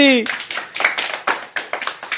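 Loud, sharp hand claps from children playing a village game, about a dozen in an irregular rhythm, starting right after a brief shout.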